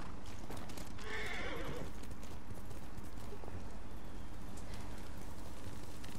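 Horse neighs and hooves clip-clop in the samurai game Ghost of Tsushima, a clear whinny near the start followed by steady galloping hoofbeats under a windy, rain-like wash.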